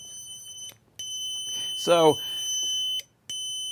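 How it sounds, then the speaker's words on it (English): An alarm device rings during a live electronics workshop stream as a steady high electronic tone that holds through the clip, with a short spoken word in the middle. "Do you see this alarm?"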